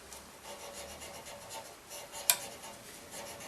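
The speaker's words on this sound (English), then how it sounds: "until we finish sanding all these grooves, these little spirals" Fine abrasive rubbing on the grooves and little spirals of a wooden pen turning on a lathe, a soft steady rasp with a faint whirring pulse and one brief sharp click partway through, quiet and close, with no talking.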